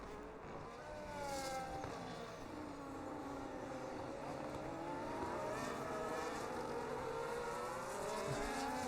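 Race cars including an Alpine, a Williams and a Ferrari lap the British Grand Prix circuit in a racing video game, engines droning steadily with rising and falling revs as several cars pass close, continuous and loud throughout.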